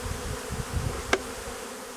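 Honeybees hum steadily around an opened Alpine-style beehive, a close, continuous buzz with one brief louder pass near the middle.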